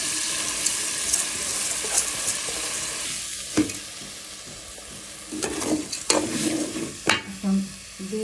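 Raw rice is stir-fried in a pan for a Bangladeshi rice dish, with a soft constant sizzle broken by repeated scraping and stirring strokes of a spatula, close and unaccompanied by speech.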